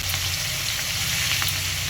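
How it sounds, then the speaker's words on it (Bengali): Fish frying in hot oil in a home kitchen on an induction cooker, giving a steady, close, dense sizzle with a crackling hiss throughout and no talking. "এই যে মাছগুলো ভাজা হয়ে গেছে"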